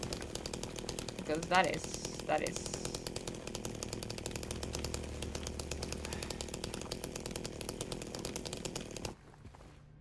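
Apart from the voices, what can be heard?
chainsaw cutting through a wall, Silent Hill 2 video game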